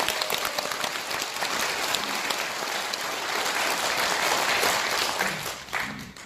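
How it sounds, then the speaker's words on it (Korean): An audience at a conservative political forum breaks into sustained applause, a thick crowd of hands clapping steadily and fairly loudly that swells slightly toward the end before thinning. "많은 박수를 여러분들에게 보내겠습니다"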